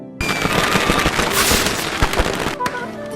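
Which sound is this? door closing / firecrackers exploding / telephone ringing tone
firecrackers exploding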